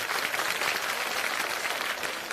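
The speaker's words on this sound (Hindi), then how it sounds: "जोरदार ताली बजे" Applause from an audience at an outdoor public meeting at a village high school, a dense steady wash of many hands clapping throughout, loud and close with no pauses.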